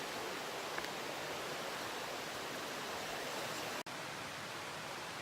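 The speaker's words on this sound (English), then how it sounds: "Got this beautiful creek right here," Water rushes steadily in a continuous broadband hiss, like a creek in the Smokies at Cataloochee flowing close by over rocks, with a brief dropout near the end.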